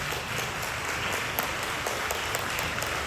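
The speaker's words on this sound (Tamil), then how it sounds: "கைத்தட்டி நன்றி சொல்லுவோமா?" A church congregation at St. Luke's Church's annual feast breaks into dense, continuous applause, many hands clapping together at an even level throughout.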